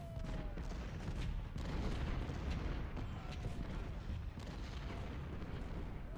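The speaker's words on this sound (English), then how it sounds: "Barton's getting hit pretty hard from these 24-pound howitzers" Continuous booming artillery fire from 24-pound howitzers in the Ultimate General: Civil War battle at Cold Harbor, a dense rumbling barrage of overlapping shots with no clear gaps, steady and loud throughout.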